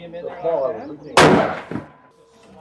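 A rifle loaded with Barnes 22 Creedmoor ammunition fires one loud, sharp shot at an outdoor range, cutting in after someone talks and ringing out briefly with an echo.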